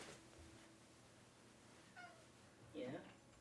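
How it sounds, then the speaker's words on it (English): A cat gives a couple of short, indignant meows, faint and close in a quiet room, the last one louder and wavering. "that's the most indignant I've ever heard him give me a meow"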